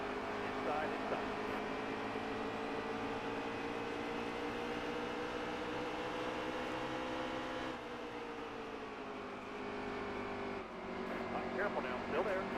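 Race cars roar around a track in a steady, dense engine drone with layered tones that shift as cars pass, while a spotter's voice talks over the noise.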